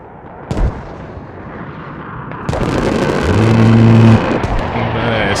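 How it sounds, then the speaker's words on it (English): Mortar strikes land in the Squad military shooter game, with a sharp blast early on and then a heavier rumbling impact followed by a sustained roar and a droning engine tone, loud and close. "And the mortars on top of it."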